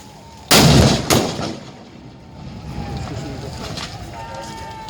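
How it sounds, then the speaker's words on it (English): Two sharp booming blasts simulate a bomb strike on the ground during a military exercise, the first loudest and the second close behind, followed by a low rumbling wash of wind and distant noise. "the blast will be simulated on the ground"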